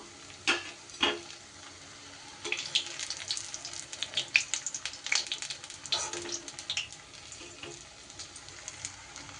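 Steady crackling sizzle of spinach fritters deep frying in hot oil, with occasional clinks and bursts of spattering, close by and fairly quiet.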